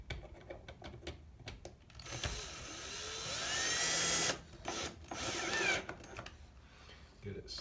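Power drill driving screws into lower corner brackets of a skylight installed from inside, a rising whir in a couple of bursts lasting a few seconds, with pauses and handling noise between.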